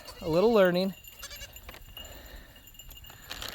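A goat in a farm pasture lets out one loud, close, wavering bleat, then falls quiet under faint outdoor background noise.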